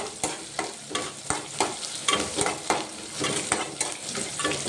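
Onions fry in a pan with peanuts, giving a steady sizzle broken by repeated sharp scraping strokes of a spoon stirring, close and clear with no talk.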